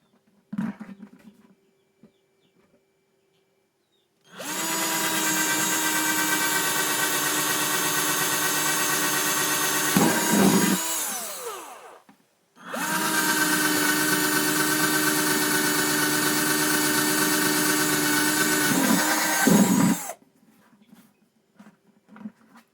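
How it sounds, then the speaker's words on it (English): A power drill bores drain holes through plastic buckets, two long steady whirring runs of about six and eight seconds each, separated by a short pause, loud and close with no talking over them. "I've got my holes drilled in the buckets"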